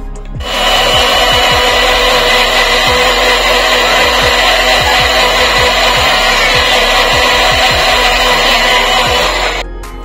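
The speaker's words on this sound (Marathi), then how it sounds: "परत एकदा मिक्सरला वाटून घेऊया" A mixer grinder whirs loudly and steadily for most of the clip, grinding coconut for Konkani sol kadi, with rhythmic knocking underneath, then cuts off near the end.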